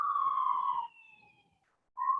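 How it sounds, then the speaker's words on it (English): Emergency vehicle sirens passing outside give a steady wailing tone that fades away over a second or so, then another siren blast starts abruptly, heard at a moderate distance with no talk over it. "I'll wait for the sirens to go by."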